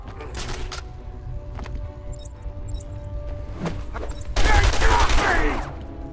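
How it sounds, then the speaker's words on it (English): Gunfire hitting Batman in the video game Batman Arkham Asylum, with scattered sharp shots and impacts building into a loud, dense burst near the end, mixed with game sounds and background noise. "I get shot to pieces basically and my health is nearly right down"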